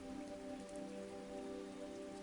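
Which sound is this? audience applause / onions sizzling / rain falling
rain falling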